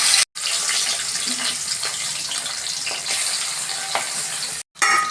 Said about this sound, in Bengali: যে তেল গরম হয়ে গেছে, আমি মাছগুলো ভেজে নিচ্ছি।